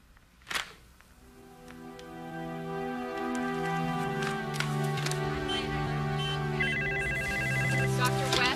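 A telephone rings with bright, repeating tonal bells building over several seconds, loud and close, with a brief click near the start.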